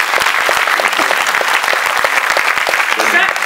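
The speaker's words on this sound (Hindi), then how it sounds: "सर के परिवार के लिए जोरदार तालियां." Loud, dense applause from an audience at an award ceremony, sustained clapping with sharp individual claps standing out over crowd murmur.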